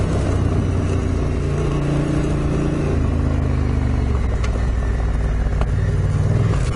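A motorcycle engine with a DCT gearbox drones loudly as it rides on a road, its pitch stepping down and up as gears change. Steady wind rush runs throughout.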